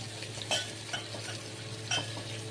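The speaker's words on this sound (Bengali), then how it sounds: "এখন আমি ডালটা ঘুটে দিচ্ছি" Boiled lentils being mashed in a pot for sour dal made with native tomatoes: a few distinct scraping, clinking strokes of a ladle about once a second over a steady low hum, close and unaccompanied by speech.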